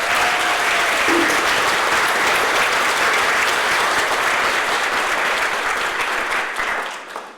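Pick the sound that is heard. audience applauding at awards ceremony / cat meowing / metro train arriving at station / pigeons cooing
audience applauding at awards ceremony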